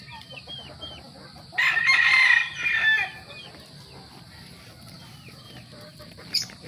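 A White Choco gamefowl rooster crows once nearby, a loud drawn-out call lasting over a second against a quiet background with a faint high hum.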